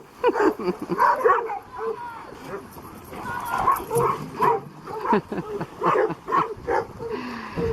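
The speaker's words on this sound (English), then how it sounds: "we got a lot of dogs here today." Several dogs at a busy gathering bark, yip and whimper in overlapping bursts, close and fairly loud, with people talking in between the barks.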